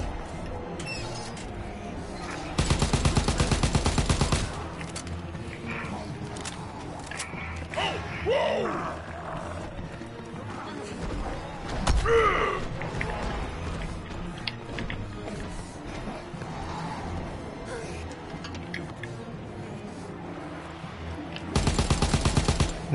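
Gunfire in Call of Duty WWII Zombies: dense bursts of rapid automatic fire at the start and end, with scattered shots, mechanical clicks and game noises in between.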